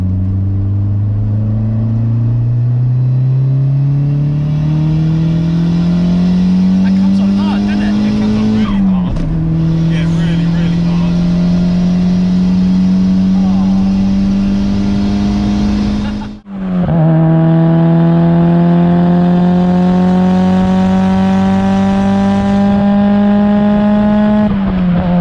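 Toyota Starlet GT Turbo with a TD04 hybrid turbo, about 250 brake horsepower and under 800 kg, pulls hard in a straight line, engine note climbing steadily through two gear changes with brief dips between, loud and close throughout.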